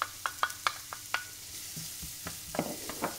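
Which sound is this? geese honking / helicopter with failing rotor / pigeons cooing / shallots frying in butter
shallots frying in butter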